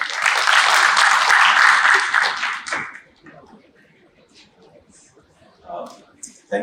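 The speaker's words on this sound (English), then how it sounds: "A huge round of applause for him, please." Loud applause from an audience at a government conference session in Rajasthan, sustained for nearly three seconds and then cutting off into quiet room tone.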